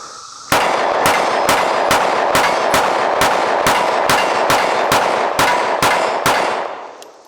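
A Smith & Wesson M&P Carry Comp pistol fires about a dozen loud, sharp shots in a quick, even rhythm, each crack ringing briefly before the string ends and the sound fades.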